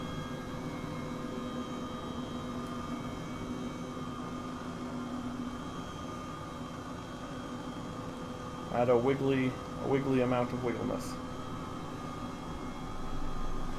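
Turbine engines of an Airbus H135 helicopter in Microsoft Flight Simulator, a steady droning whine with constant tones throughout; a voice speaks briefly over it midway.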